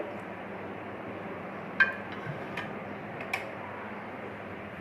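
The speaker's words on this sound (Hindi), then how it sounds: "प्रेशर को हमने रखा चूल्हे पे और फ्लेम को हमने ऑन किया" A gas stove burner lit beneath a pressure cooker: three or four sharp, spaced ticks from the igniter over a constant low rushing hiss of flame, close and moderately loud, with no voices.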